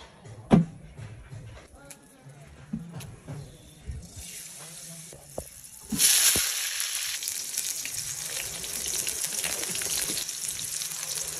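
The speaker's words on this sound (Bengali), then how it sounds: "বেগুনটাকে বেশ লাল লাল করে ভেজে নেবো।" Eggplant pieces hit hot oil in a wok and a loud, steady sizzle takes over, following a few clunks and kitchen clatter.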